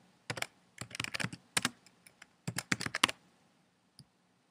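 Quick bursts of computer keyboard typing, close and fairly quiet, come in uneven clusters of keystrokes with brief pauses between them and a final lone click.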